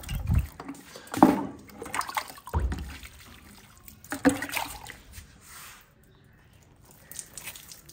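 A potted money plant set in the shade is watered, giving close splashes and trickles of water in a few uneven bursts with quieter stretches between, over soft outdoor background noise.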